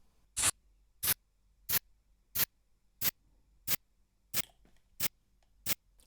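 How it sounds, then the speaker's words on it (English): A spray hiss sample pitched up 18 semitones and used as a hi-hat, crisp short bright ticks repeating in an even rhythm, about nine hits, isolated and dry. "A spray hiss at plus 18 semitones"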